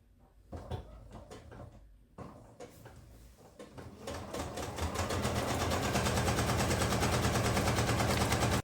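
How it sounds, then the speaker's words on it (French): A sewing machine runs a quarter-inch seam for a quilting project, starting with a few short bursts and clicks, then settling into a loud, steady, rapid stitching that continues to the end. "On va faire une couture, 1/4 de pouce de chaque côté de ces 2 grandes lignes-là."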